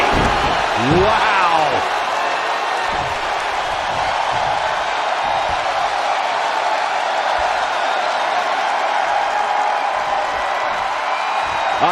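Arena crowd in the WWE 2K20 wrestling video game roaring steadily throughout, loud and sustained, with a few impact thuds from the ring near the start.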